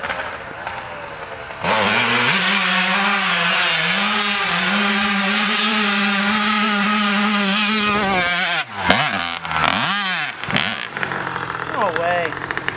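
A dirt bike engine revs hard and steady through a wheelie, a loud close drone with pitch rising and holding, then chopping into short bursts of throttle near the end as the rider backs off.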